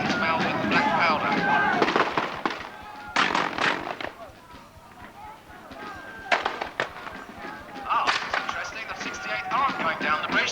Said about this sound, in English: Going down the bridge, they're now firing in the Austrians.